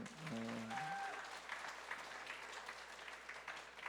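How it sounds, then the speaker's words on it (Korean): A church congregation at a Sunday worship service breaks into applause, a dense steady clapping that follows a brief moment of voice at the start and fills the room at moderate distance. "우리 순장님께 박수 한번 주십시오."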